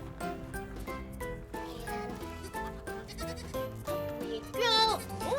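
A baby goat on a farm bleats briefly near the end, a quavering cry over busy background music with no talk.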